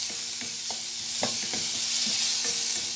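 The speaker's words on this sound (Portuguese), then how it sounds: "E eu vou colocar meia cenoura ralada também, para dar aquela refogada junto com a cebola." Grated carrot and onion sauté in a pan, a steady hiss of frying with a few soft stirring scrapes and taps, close and continuous with no one talking.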